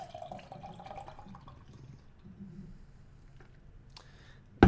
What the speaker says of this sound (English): So this guy pours out pretty dark.